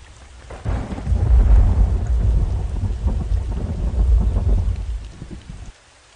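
Heavy pouring monsoon rain, a dense, loud, steady downpour with low rumbling, running alone for several seconds before cutting off abruptly.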